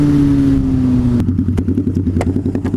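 Harley-Davidson V-Rod motorcycle running louder after its exhaust baffle blew out, a loud close engine drone that drops in pitch, then turns into a rough, rapid popping exhaust burble.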